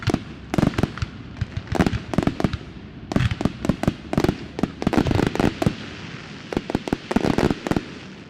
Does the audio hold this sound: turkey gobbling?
no